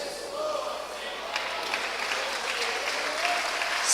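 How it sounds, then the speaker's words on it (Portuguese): A church congregation applauding during a Portuguese-language sermon, sustained clapping from many hands that swells toward the end, with faint voices mixed in. "pode aplaudir"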